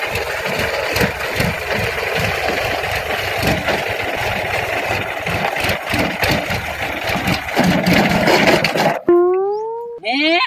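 A farm tractor engine idles with a close, loud, chugging rumble for several seconds, then cuts out abruptly, leaving a brief rising voice in the quiet.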